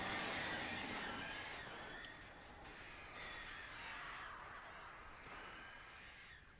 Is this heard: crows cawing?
yes